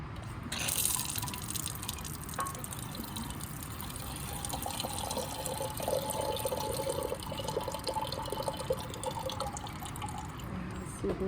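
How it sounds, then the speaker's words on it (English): Cold water is poured into a laboratory beaker during a chemistry experiment, a close, bubbling, dripping fill that runs for several seconds with trickles and splashes. "So I'm going to put a little cold water into our beaker."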